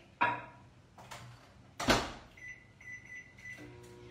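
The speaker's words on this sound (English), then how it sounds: "pop it in my microwave" A microwave door clicks open, a dish goes in, and the door thuds shut, followed by a few button beeps and the oven starting up.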